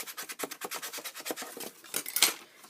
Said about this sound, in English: Take a bone folder and rub inside.